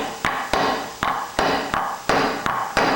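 A hammer strikes a bolt on an aircraft main gear leg, eight sharp metallic blows in a steady, evenly spaced rhythm, close and loud with brief ringing decay after each hit.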